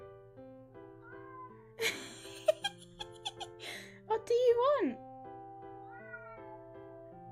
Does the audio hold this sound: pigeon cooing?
no